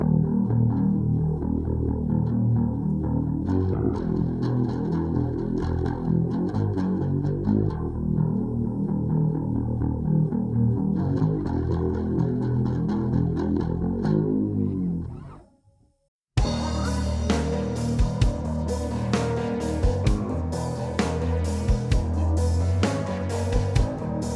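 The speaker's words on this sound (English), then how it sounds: "what we hear at the beginning is the Cali76 compact bass compressor from the Origin Effects" Steady bass guitar lines through an Origin Effects Cali76 compact bass compressor and Strymon Mobius multi-chorus, smooth shimmering modulation, playing continuously, breaking briefly near the end before resuming with sharper plucked notes.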